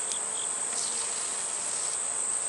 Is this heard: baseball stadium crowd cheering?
no